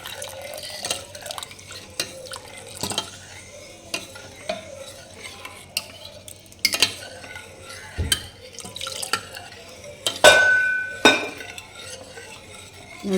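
About 150 ml of coconut milk goes into a pot of lentil payasam in a Kerala home kitchen with the heat off, heard as soft liquid pouring and drips mixed with repeated stirring scrapes and spoon clinks against the pot.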